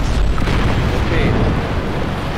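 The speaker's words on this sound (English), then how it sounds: "This explosion through the car through the air" A car-tossing explosion in a virtual reality demo shown at a standards meeting, heard as a loud, continuous rumbling roar with deep booming weight, filling the whole stretch.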